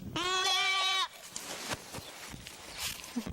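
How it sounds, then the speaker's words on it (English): A single loud, wavering meat goat bleat up close, followed by quieter rustling and shuffling movement. "A lot of people use goats for milk or cheese and even for meat, but you can even use them as pets"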